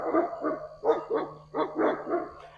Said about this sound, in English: two zany herd dogs that interrupt my videos